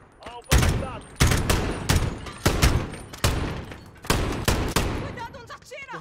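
Loud gunfire in a video game comes in repeated heavy bursts and volleys roughly every half second to second, dense and close, with brief snatches of voices at the edges.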